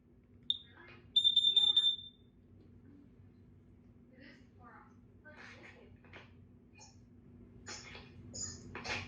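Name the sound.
Kidde smoke and carbon monoxide alarm sounding during test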